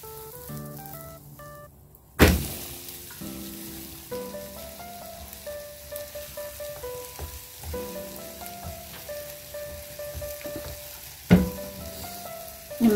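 Bread omelette sizzling in a frying pan as it is flipped: a soft continuous sizzle under background music, with two sharp thumps from the flip.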